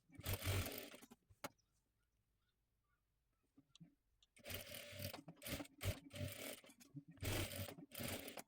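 An electric sewing machine runs in loud, close bursts with a rapid stitching buzz, stopping for a quiet pause midway before resuming, as it double-stitches the shoulder seam of a princess-cut blouse.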